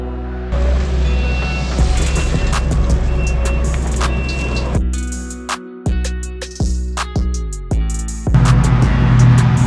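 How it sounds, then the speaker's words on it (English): A skid steer digs out ground for a paver patio, its diesel engine droning loudly and shifting as it revs and loads, with clanks and a brief drop-off midway. "We're just excavating with the skid steer."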